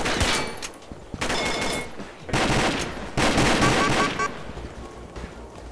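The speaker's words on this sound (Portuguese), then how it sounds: "Troca de tiro aqui." Bursts of rapid automatic gunfire crackle in several volleys with brief pauses between, loud and close, sounding like a shootout in a competitive shooter game match.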